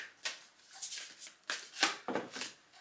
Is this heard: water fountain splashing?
no